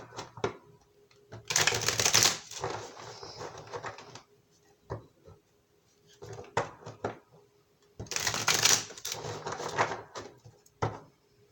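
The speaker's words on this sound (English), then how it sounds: "Two more shuffles here, guys." Tarot card deck shuffled in two bursts, a loud riffling flutter of cards near the microphone, with quieter handling taps between, during a daily reading.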